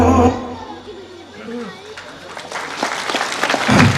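An audience at a Saint Xavier's Vision School annual function breaks into applause that swells toward the end, following a fading song, with voices mixed in.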